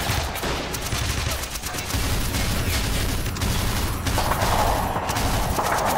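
Sustained MG42 machine gun fire in the World War II strategy game Men of War, a dense unbroken fusillade of rapid bursts with distant booms, continuous and loud throughout with no talking.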